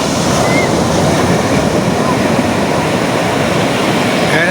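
Roaring surf pounds the beach at Bucana, Nasugbu, Batangas, a loud continuous wash of breaking waves with wind buffeting the microphone.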